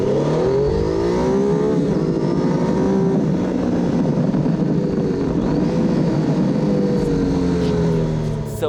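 A 2018 Triumph Tiger 800 XCA motorcycle engine revs and accelerates steadily, its pitch sweeping upward and dipping in waves, close and continuous with no talk.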